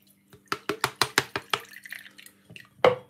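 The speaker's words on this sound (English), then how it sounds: "squeeze out everything out into your strainer." Carrot and pomegranate juice falls through a strainer in a quick run of about eight close, distinct drips and splats. They thin into softer trickles, and one more splash follows at the end.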